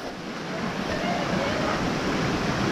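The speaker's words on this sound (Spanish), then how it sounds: "Ahí está la primera cascada" A waterfall on the Palo Maria river near Puerto Vallarta sends up a steady, dense roar of rushing water that fills the whole clip without a break.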